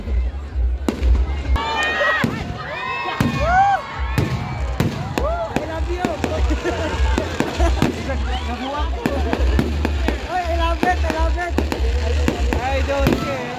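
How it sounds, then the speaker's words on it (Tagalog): Sharp pops and crackling bursts from a nighttime fireworks show go off at an irregular, rapid pace, some whistling, while a crowd talks and cheers nearby. "Ito yung firework."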